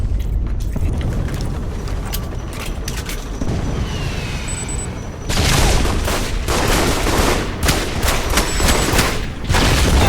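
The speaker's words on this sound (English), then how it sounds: "Why am I back on the assault rifle?" Sustained assault rifle gunfire in the video game Alpha Protocol, loud and close, with dense rapid bursts that grow heavier and more continuous in the second half.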